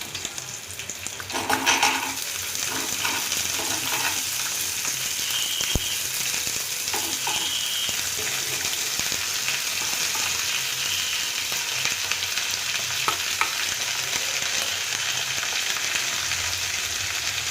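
Spring onion, coriander and onion fry in a pan for a spring onion chutney, giving a loud, steady close-up sizzle with a brief burst of stirring clatter near the start.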